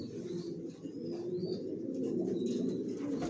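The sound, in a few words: Janssen line racing pigeons cooing in loft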